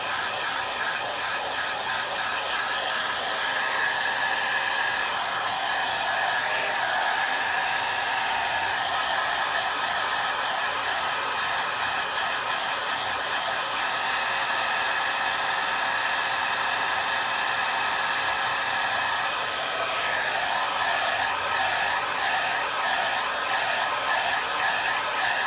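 A hair dryer blows on chalk paint coating a gourd scarecrow, a steady, close whirring roar that holds an even pitch throughout with slight fluctuations as it is moved, with no speech.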